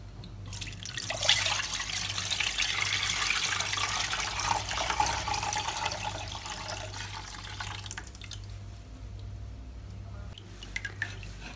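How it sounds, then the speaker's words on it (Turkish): Homemade lemonade pours through a strainer into another container, giving a steady close splashing trickle that thins out over the last few seconds. "pürüzsüz bir görüntü elde etmek için limonatamızı başka bir kabın içerisine süzüyoruz."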